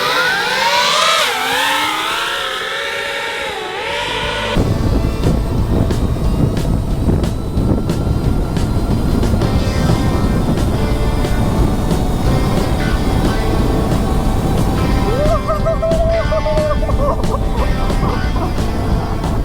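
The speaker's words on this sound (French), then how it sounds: "quand t'accélères, comment elle monte toute seule la moto?" A Stark Varg SM electric motorcycle accelerates with a rising electric whine, then settles into a loud, steady roar of motor and tyre noise, close to the microphone, with no talk.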